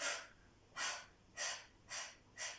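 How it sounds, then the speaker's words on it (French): Breath of fire breathing exercise in a stretching and Do-In self-shiatsu session: five sharp, forceful nasal exhalations at a steady rhythm, each a short breathy burst, close and alone with no talking. "On peut venir également travailler la respiration du feu ici."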